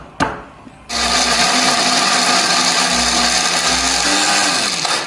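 A blender grinds chilies into a spice paste with a loud, steady motor whir, starting after a short knock and running without pause.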